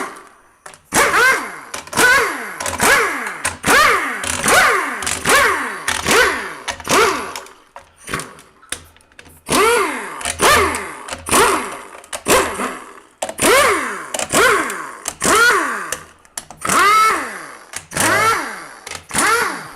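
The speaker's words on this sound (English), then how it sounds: "I'm going to use my air on these pan bolts here. It just spins them out a lot faster." A pneumatic air impact wrench spins out transmission pan bolts on a twin-turbo Cadillac CTS-V with a 6L90 gearbox, sounding as repeated loud whirring bursts with short gaps between bolts, close by and without talk.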